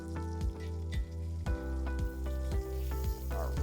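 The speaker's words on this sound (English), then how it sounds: "that sear, that crust the steak is starting to get" Steak searing in a hot pan, a steady close sizzle broken by regular rhythmic knocks and scrapes roughly every half second, with no voices.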